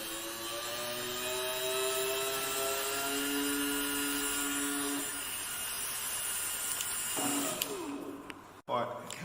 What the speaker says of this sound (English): as I dial it up, you can hear the motor accelerating.